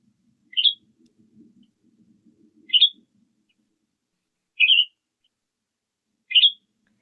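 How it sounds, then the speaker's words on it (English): A bird at Metcalf Creek, Big Bear Lake, gives four short, bubbly, gurgling chirps spaced a couple of seconds apart, clear and isolated against near silence with a faint murmur early on. "It's kind of this like gentle, gurgling chirp."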